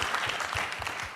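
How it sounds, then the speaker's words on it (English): An audience at a talk on fighting antisemitism at colleges claps in a brief, dense burst of applause that fills the room evenly. "Let's have a round of applause."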